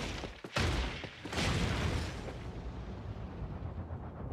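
An explosion in Paper Mario: The Origami King: a couple of loud booming blasts followed by a dense rumbling roar that slowly fades and thins out over several seconds, with no voices.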